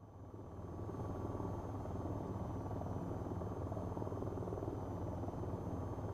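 Steady, droning rotor and engine noise of a helicopter flying in the video game VTOL VR, continuous and fairly loud throughout with no voices.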